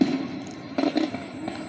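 Fireworks bang and crackle in a few bursts, with a loud rumbling boom at the start and another cluster of pops midway, sounding distorted and overloaded as if recorded too close to the microphone.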